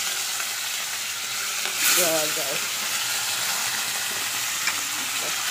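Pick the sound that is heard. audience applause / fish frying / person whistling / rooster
fish frying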